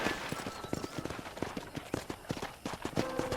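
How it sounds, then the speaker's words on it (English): Steady clip-clop of horse hooves at a brisk walking pace on a ranch in Red Dead Redemption, many quick thuds in a regular rhythm with a faint tone near the end. "let's see if you can still ride a horse"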